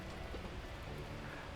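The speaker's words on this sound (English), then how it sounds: "unleashing torrential rain" Torrential rain pouring down in a steady, dense hiss, with no breaks and no voices, heard for a brief moment.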